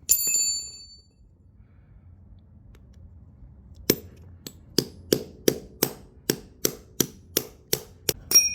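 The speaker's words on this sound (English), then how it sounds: "I'm gonna grind down here and then use a punch to punch out." Hammer striking a punch to drive a pin out of a motorcycle drive chain on a 2009-2012 Kawasaki ZX6R, about a dozen sharp metallic blows in a steady accelerating rhythm after a brief earlier clink and a quiet pause.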